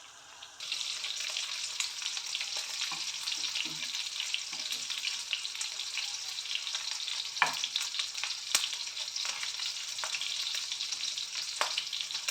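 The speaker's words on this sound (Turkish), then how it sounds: "Her tarafa aynı eşitlikte kızartılacak, kızartılacak." Meatballs (köfte) sizzle steadily in a hot pan, a dense continuous frying hiss running close and loud throughout, with a few sharp metallic clinks as a spoon turns them.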